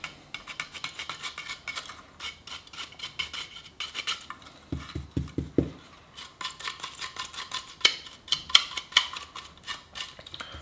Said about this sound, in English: While I'm dry brushing